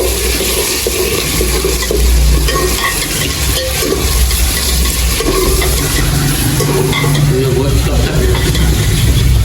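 Browned onions frying with chicken added in a pot for biryani make a loud, dense, continuous sizzle with stirring, and a voice is partly audible underneath.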